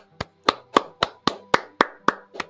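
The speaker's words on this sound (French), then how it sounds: "on est deux à applaudir dans le studio" Two people clap in a studio, sharp close hand claps in a slow, even run of about nine, each crisp and ringing briefly.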